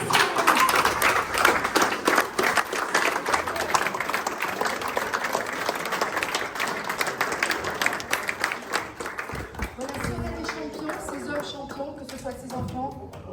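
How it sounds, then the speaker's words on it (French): An audience at an annual champions' awards ceremony claps steadily and loudly for about nine seconds, then the applause thins out into scattered claps while a voice speaks over it. "On peut l'applaudir."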